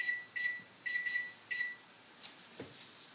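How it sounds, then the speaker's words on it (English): A kitchen timer beeps in short repeated bursts, alone in a quiet room, while empanadas are being fried. "I'm going to set a timer so I can tell you guys exactly how long it takes."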